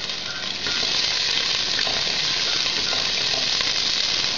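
Onions for chutney hitting a hot pan and frying, a steady broadband sizzle that jumps up as the batch goes in and then holds loud and even, with no voices.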